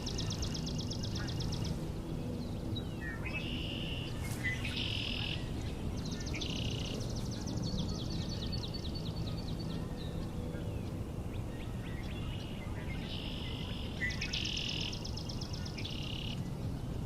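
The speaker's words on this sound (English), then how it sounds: "So our swamp sparrows are at it again." Swamp sparrows sing in a wetland, their rapid trilled songs repeating at intervals, faint and somewhat distant over a quiet background of insects and ambient outdoor noise.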